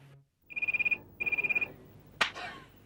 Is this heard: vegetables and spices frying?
no